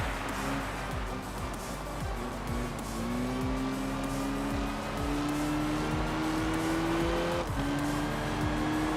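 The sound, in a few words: car engine and tire squeal in Enthusia Professional Racing video game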